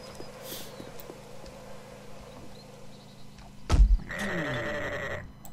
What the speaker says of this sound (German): Hier ist ein Schaf.